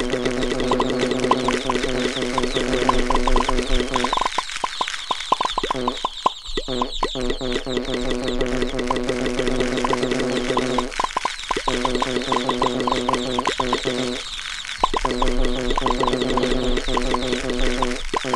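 Cartoon hens cluck repeatedly in the Peppa Pig game Happy Mrs. Chicken, playful bursts of clucking over bouncy game music, broken by a few short pauses.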